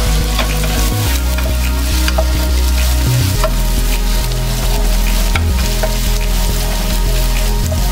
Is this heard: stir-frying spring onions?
yes